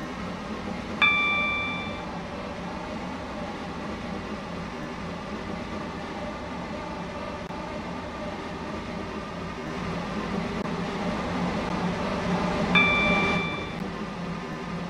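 An SCR Waterline train in the Roblox video game runs with a steady mid-level rumble and rolling hum. A two-tone chime rings near the start and again near the end, and the rumble swells slightly in the later part.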